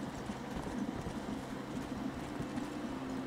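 A horse answering a whistle in the video game Red Dead Redemption, with a soft run of hoofbeats in a steady clopping rhythm under low rumbling background noise, faint overall.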